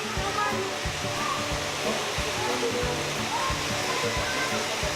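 Kathu waterfall in Phuket roars as a steady, loud wash of falling water, a constant rush with faint voices mixed underneath.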